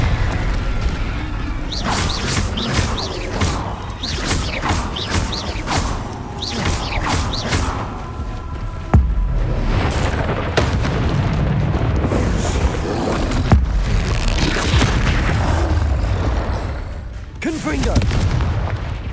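Repeated fiery Confringo blast-spell explosions in the Hogwarts Legacy video game sound as loud booms and crackling bursts over dense combat effects and music, with voices calling out in between.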